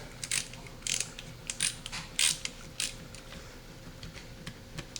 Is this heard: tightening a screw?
yes